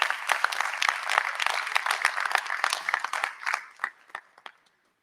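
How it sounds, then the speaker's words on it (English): Audience applause at a symposium keynote, a dense burst of many hands clapping that thins out and fades to silence near the end. "give them a round of applause, please"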